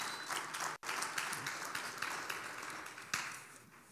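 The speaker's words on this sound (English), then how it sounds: "Give applause for a pastor Chip, please. Pode bater palma pro pastor Chip." A church congregation applauds together for the pastor in one steady, dense wash of clapping that continues without a break and fades slightly near the end.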